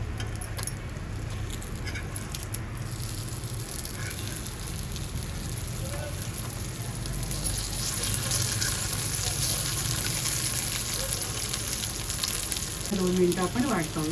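Eggplant slices fry in a pan with a steady low sizzle and crackle throughout, growing slightly louder midway, while someone speaks briefly over the cooking.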